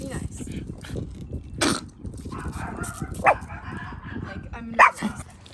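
Dogs meeting for the first time, including a foster dog named Holly, give a few sharp, close barks and yips at scattered moments over steady background noise, with people talking in between.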